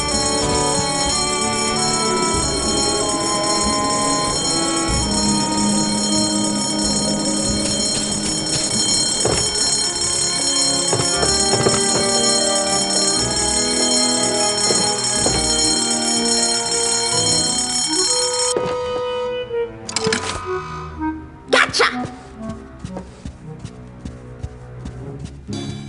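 A fire alarm bell rings continuously and loudly in the adventure game Escape From Monkey Island, a bright metallic clangor over layered game sounds that cuts off abruptly, leaving scattered sharp clatters afterward.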